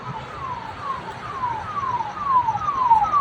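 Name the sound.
ambulance siren passing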